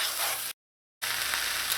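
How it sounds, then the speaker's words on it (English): Rice frying in a pot for Trini chicken pelau gives a dense, loud, steady sizzle that cuts out completely for half a second, then returns at the same level. "I'm just going to let this rice fry up in here for a minute"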